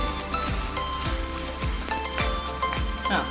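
Coconut pieces frying in oil with mustard and fennel seeds for kadala curry, a constant crackling sizzle with sharp pops and spatters every half second or so, close and loud.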